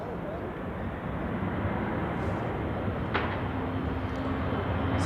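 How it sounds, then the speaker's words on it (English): A British Airways airliner taxiing at Zurich Airport in winter near a busy de-icing pad gives a steady, broad jet engine rumble and hiss that stays even and fairly loud throughout, heard from a distance. "British Airways to Heathrow, taxiing in front."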